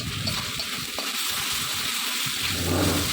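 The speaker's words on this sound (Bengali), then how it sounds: "এবার আদা রসুনের পেস্ট দিয়ে খুব ভালো করে ভেজে নিচ্ছিলাম।" Ginger garlic paste fries in oil for a duck curry, a dense, even sizzle close up with a few soft stirring knocks, steady for a few seconds with no talking.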